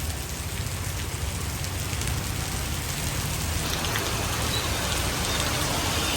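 Heavy rain pours steadily near a parked car in an outdoor city setting, a dense, continuous hiss of drops on surfaces with a low rumble underneath and no breaks.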